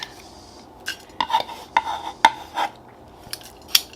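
Nuts for an Italian panpepato toast in a dry pan, giving sparse, close rattles and metallic scrapes as they are stirred and tossed, with quiet gaps between and no voices.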